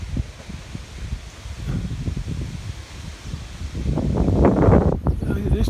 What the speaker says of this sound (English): It's still windy. You can see the trees